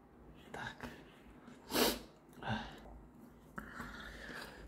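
A single sharp sneeze bursts out indoors in a flat in Alanya, Turkey, set among soft breaths, sniffs and quiet whispering.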